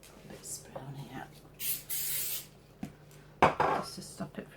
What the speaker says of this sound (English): bit of spray on here,